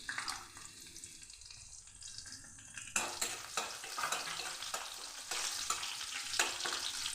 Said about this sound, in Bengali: মাছ ভাজা তেলের মধ্যে দিয়ে দিচ্ছি কালো জিরে